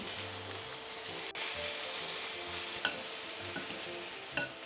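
Chicken frying in oil in a pan sizzles with a steady hiss, while a few soft clicks and scrapes of stirring sound close up.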